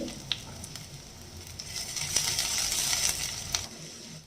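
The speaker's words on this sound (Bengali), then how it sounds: "পেঁয়াজগুলো একটু ভাজা ভাজা হবে।" Onions sizzling in mustard oil in a pan while chicken keema curry is being cooked, a steady broadband crackle swelling louder midway with a few sharp pops and stirring clinks, no voices.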